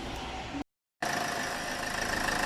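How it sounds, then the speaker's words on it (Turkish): A Land Rover Freelander 2.2 diesel engine is cranked after a timing belt change: a steady mechanical drone cuts out briefly, then returns as a loud, even idle with a faint knocking pulse. "Şimdi marşa basıyoruz"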